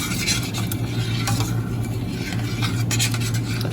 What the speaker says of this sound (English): So give it one last little stir to make sure all that bouillon is incorporated good